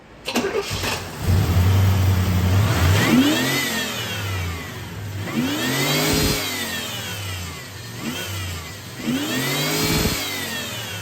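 A 1989 Trans Am 5.7 TPI V8 starts, then revs up three times, each rev rising and falling in pitch before dropping back to a rough idle, close and loud.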